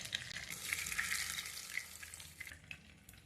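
Crispy, spicy street-style fish frying in hot oil, a close, steady hiss and crackle with bright spitting pops throughout, no voices over it.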